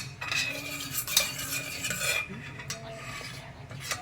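Whole spices, bay leaf, cinnamon, cloves, cardamom and cumin fry in a pan for paneer biryani, with a spoon scraping and clinking steadily against the metal over a soft sizzle, close and continuous with no talk.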